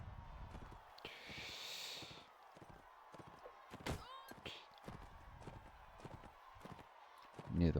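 Horse hooves clip-clop in the medieval combat game Mount and Blade Warband, galloping at a steady rhythm with occasional neighs and combat thuds, fairly quiet and mixed with game sounds.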